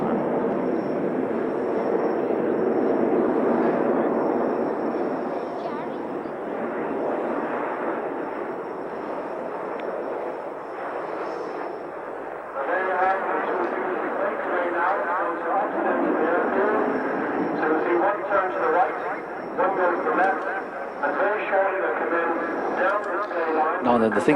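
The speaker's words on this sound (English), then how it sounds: "They fly past each other at a closing speed of 600 to 700 knots in what is known as an opposition loop" Jet aircraft at the 1989 Ulster Airshow in Newtownards flying past each other in an opposition loop at a closing speed of 600 to 700 knots, a continuous loud roar that swells and thickens midway, with a commentator talking over it throughout.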